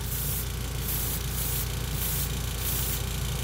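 A Master G79 airbrush sprays paint with the compressor on, producing a soft, steady hiss with a few faint pulsing bursts, alone and close.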